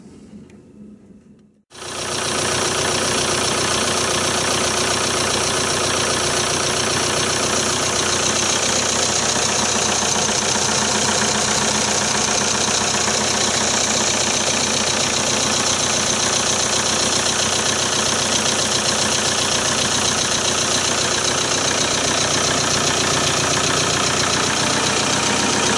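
A Volkswagen Jetta TDI diesel engine starts after oil cooler repair work and settles into a steady, loud idle with a constant mechanical clatter and hum, close by with no voices.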